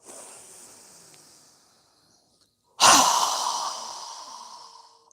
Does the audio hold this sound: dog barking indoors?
no